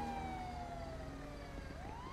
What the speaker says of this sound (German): da kommt sogar noch ein Rettungswagen